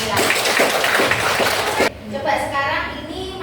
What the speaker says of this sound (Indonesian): Tepuk tangan untuk Mbak Naila.